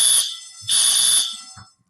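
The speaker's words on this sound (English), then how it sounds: "they're testing our fire alarm here" A fire alarm being tested indoors, sounding two loud, shrill electronic bursts with a short gap between them, the second longer before it cuts off.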